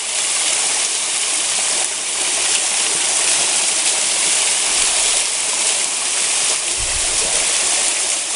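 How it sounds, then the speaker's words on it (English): A small cascade of about 20 feet on the Bartram Trail gives a steady, loud, broadband rush of falling water, continuous and close throughout, with no talk. "you finally come to this cool little waterfall"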